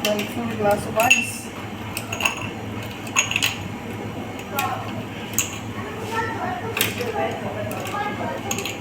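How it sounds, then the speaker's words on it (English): Ice cubes for a watermelon mojito clatter into a glass in a scatter of sharp, bright clinks and taps, with a voice faintly in the background. "Then full glass of ice."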